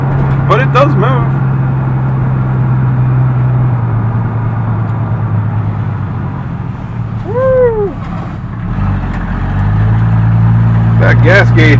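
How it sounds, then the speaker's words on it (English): A 1978 Chevy C10 pickup, off the road for 24 years, drives and slowly accelerates with a loud, rumbling engine whose pitch drops and then climbs, and brief squeaks or chirps surface over the drone. "Well, it accelerates like a slug."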